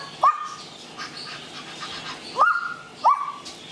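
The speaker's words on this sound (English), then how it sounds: "That's Matilda being a dog" A dog gives three sharp yelping barks, each a quick rising bark with a short tail, spaced irregularly over a faint background hum, close and fairly loud.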